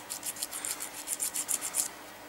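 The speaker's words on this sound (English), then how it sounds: "filing down" A file rasps back and forth across the flat edge of a Deadzone terrain piece, about a dozen quick, even scraping strokes in a steady rhythm, close and fairly quiet, with no voices.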